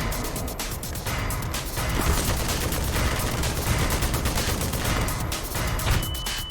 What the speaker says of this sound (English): If that thing's firing off its guns, it just shreds you.